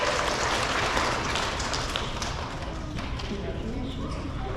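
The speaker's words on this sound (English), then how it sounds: "Let's give her a round of applause." Applause from the audience at an elementary school K-2 awards ceremony, a moderate, fairly distant patter of many hands that thins out slightly toward the end.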